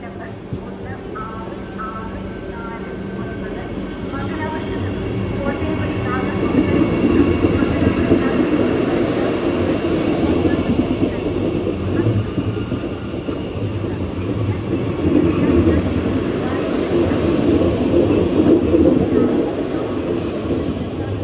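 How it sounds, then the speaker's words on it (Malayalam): Orange-livery Vande Bharat Express train departing, heard from the driver's cabin: a steady, loud rolling rumble with rail noise that swells as it gathers speed, continuous throughout. "ട്രെയിൻ ഡിപ്പാർട്ട് ചെയ്യാണ്ട് ഇവിടുന്ന്."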